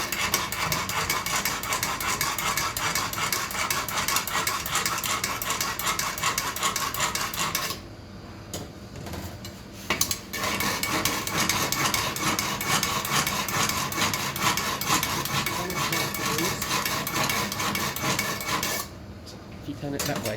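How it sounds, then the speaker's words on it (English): Knives being sharpened with a Chantry sharpener, a continuous fast rasping scrape of steel strokes, close and loud, broken by two short pauses. "So first of all, we're just going to sharpen our knives."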